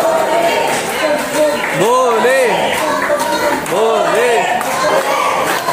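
A large, dense crowd of worshippers at Trimbakeshwar temple makes a loud, constant murmur and chatter. Voices rise in a few chanted calls that swell and fall across the scene.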